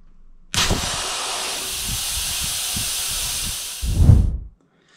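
Pressurised air hissing steadily out of the bleed screw of a Leshiy 2 air rifle regulator, close and loud for several seconds with faint ticking underneath, then a louder rushing surge before it cuts off.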